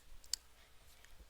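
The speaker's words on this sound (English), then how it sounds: "I'm gonna type it in my calculator." Calculator keypad tapped close by, a few faint plastic clicks with one sharper press, quiet and without talk.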